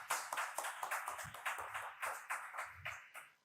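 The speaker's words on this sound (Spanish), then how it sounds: "un aplauso" An audience at a lecture on modernism and the avant-garde claps, a sparse scattering of hands at close range, uneven and modest, fading after a few seconds.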